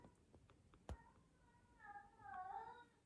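A house cat gives a couple of drawn-out, wavering meows near the end. They are quiet and come after a few soft taps and a brief thump.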